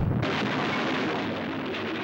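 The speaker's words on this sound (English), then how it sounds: "Wow, blowing up the Ile-de-France." The ocean liner Ile-de-France blows up in a film trailer for The Last Voyage: a loud, deep blast bursts in at once and rolls on as a dense sustained roar with no voices.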